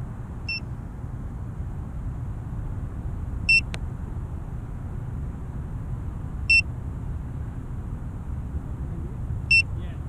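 A VIFLY Beacon mini wireless drone buzzer gives short, sharp, high beeps at a distance, about one every three seconds, over a steady low rumble of outdoor background noise.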